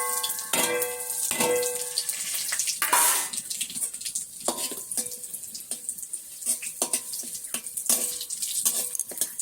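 Dried red chillies and cumin seeds hitting hot oil in a home kitchen pan, crackling and sizzling loudly, with sharp pops and clatters scattered throughout and no talking.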